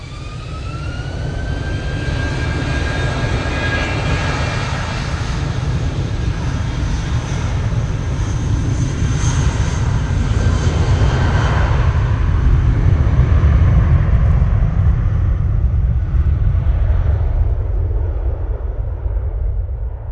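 Singapore Airlines jet airliner on final approach at Manchester Airport, a loud sustained roar of jet engines with a rising whine that swells and fades over twenty seconds.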